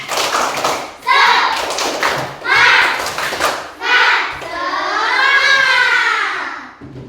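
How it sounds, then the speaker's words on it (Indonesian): A classroom of children performs a rhythmic spirit clap, bursts of patterned clapping mixed with the group chanting in unison, ending in a long sustained shout. "Tepuk semangat."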